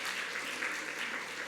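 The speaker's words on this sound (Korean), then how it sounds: "우리 박수로 환영하겠습니다." A church congregation applauds to welcome visitors during a Sunday worship service, a soft, dense wash of many hands clapping continuously, heard from a distance with no voices over it.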